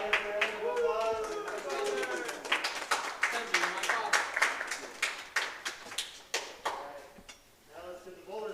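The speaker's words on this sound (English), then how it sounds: "Let's give the fathers a round of applause." Scattered clapping from a small crowd at a youth bowling tour elimination round, rising under a voice on a PA and continuing in uneven bursts; talk overlaps throughout.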